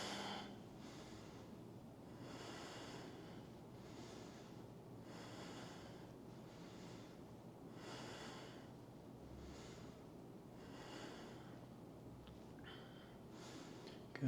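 A person in a power vinyasa yoga twist breathes audibly in a slow, regular rhythm, with several long, close, nasal inhales and exhales repeating across the stretch, and no talk.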